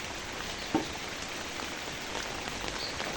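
Steady, moderately loud rain falls on a morning, a constant hiss with one brief knock near the start and no voices.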